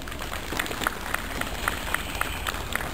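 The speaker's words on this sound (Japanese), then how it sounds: "どうぞ今一度大きな拍手をお願いいたします。" Audience applause following a New Year lion dance offering by a local folk performing arts group, a steady wash of many hands clapping, moderately loud, with a faint recurring bell-like ping and no clear speech.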